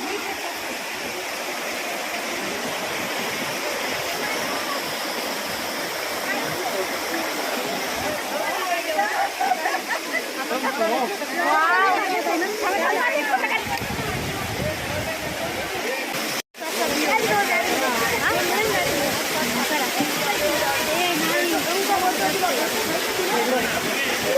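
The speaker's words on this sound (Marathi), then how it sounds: "हे ना तो मस्त धबधबा आहे." A steady, roaring rush of falling water fills the scene, broad and constant, with faint voices occasionally beneath it.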